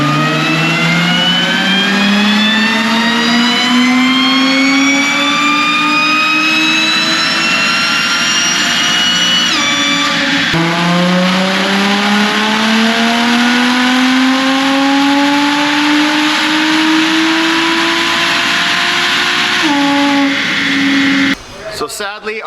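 A supercharged Audi 3.0L V6 on a chassis dyno with an AWE touring exhaust, revved twice through long, loud climbing pulls with a whining, rising pitch, a brief shift dip midway, before cutting off abruptly near the end.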